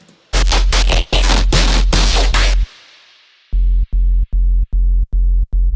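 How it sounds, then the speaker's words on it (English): Harsh, buzzy bursts of heavily distorted synth bass, first as gritty noisy blasts, then as a run of short, evenly spaced pulsing notes. "That's their kind of mildly distorted sub, and I've distorted it further."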